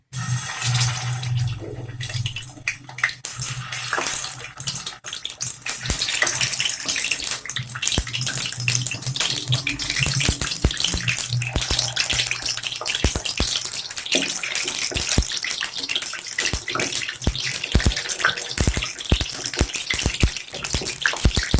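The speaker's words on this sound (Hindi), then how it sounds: "बस ऑयल गर्म हो गया, अब इसके अंदर मैं टिंडे ऐड करती हूँ" Sliced tinda (apple gourd) sizzling in hot oil for a stuffed chicken dish, a continuous loud hissing crackle with dense popping that holds steady throughout.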